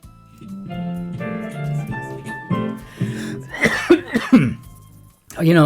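Several harsh, nearby coughs burst out in quick succession after a stretch of musical tones, loud and abrupt.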